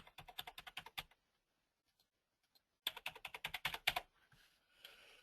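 Password being typed on a computer keyboard, two quick bursts of crisp, rapid keystrokes separated by a silent pause with a couple of isolated taps, close and quiet, with no talking.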